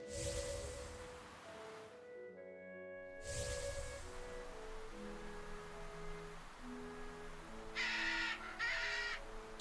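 In the video game Tales of Berseria a crow caws, its harsh calls rising over soft, sustained ambient game music.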